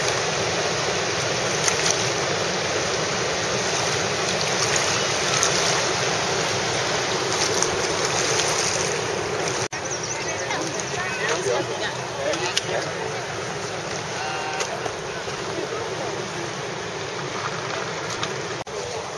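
Water rushes and churns steadily around a moving boat, with a low engine rumble and people talking faintly under the noise.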